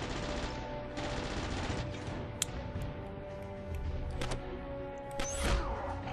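Rapid gunfire from the shooter game Killzone Mercenary comes in dense bursts of automatic shots with sharp impacts and a crash near the end, loud and close over game ambience.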